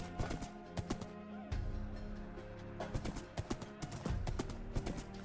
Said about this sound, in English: And rode the horse home.